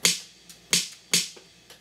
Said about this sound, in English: So I've got this snare